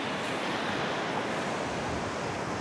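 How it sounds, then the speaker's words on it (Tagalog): Big surf crashes continuously on Estanza Beach, a loud, dense, unbroken wash of water with wind noise and no voices. "Ang lalaki po ng alon"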